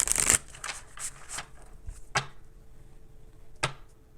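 Tarot cards shuffled by hand in short riffling bursts, a few quick rustling flurries spread across the stretch with quieter gaps between, close and fairly soft with no talking.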